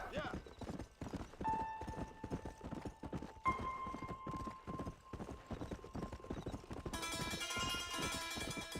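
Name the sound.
horse hooves while riding in video game Red Dead Redemption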